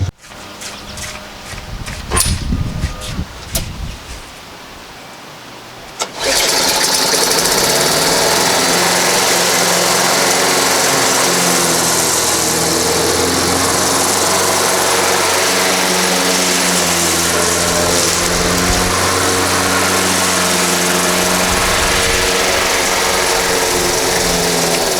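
A lawn mower runs loud and close while mowing grass, holding a steady droning roar after a few seconds of clattering start-up noise.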